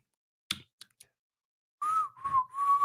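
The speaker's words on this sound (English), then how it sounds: "Hold on, I can whistle." A person produces a few soft clicks and mouth sounds, then after a pause a clear, close whistle in two wavering phrases, with no talking.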